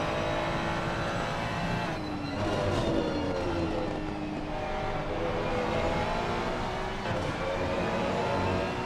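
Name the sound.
Porsche GT3 race car engine in Assetto Corsa Competizione video game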